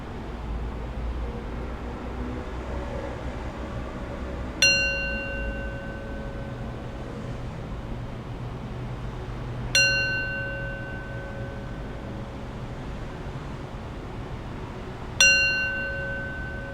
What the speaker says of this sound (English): I'll close our practice with 3 rings of the bell.